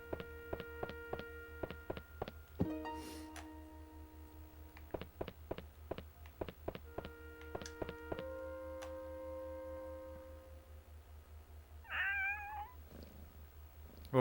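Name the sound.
cat meowing in the video game Shadow of Destiny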